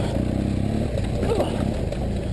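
A BMW off-road motorcycle, an F800GS or HP2, rumbles loud and close as it rides over a log on a torn-up trail, its engine pulsing steadily with a brief clatter.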